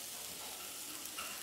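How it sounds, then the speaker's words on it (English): Garlic sizzling in a hot pan while a warm buffalo and kohlrabi salad is cooked: a steady, faint broadband hiss of frying that holds evenly throughout without pause. "I'm gonna throw some garlic in now"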